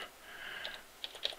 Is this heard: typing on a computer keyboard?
yes